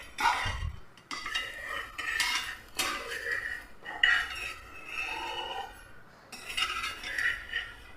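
Cooked palappam being lifted out of a pressure cooker, with metal utensils clinking and scraping against the cooker in a series of distinct close clanks separated by brief pauses.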